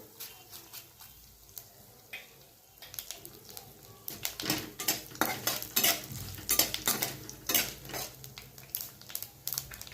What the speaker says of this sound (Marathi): आणि आता टाकते तीळ माझ्याकडे पांढरे तीळ नव्हते त्यामुळे मी काळे तीळ टाकत आहे